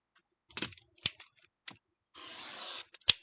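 Scissors cut 6-inch fabric quilt squares in half. There are a few sharp close snips and clicks, then a longer rasping slice through the cloth and a final crisp snap.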